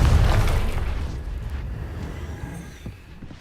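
A Confringo fire spell bursts in Hogwarts Legacy: a loud, close boom at the start that rolls into a long, rumbling decay, with a few faint crackles near the end.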